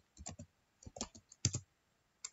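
Quiet, close clicking of computer keyboard keys typed in short irregular bursts, with brief pauses between clusters of keystrokes and no talking.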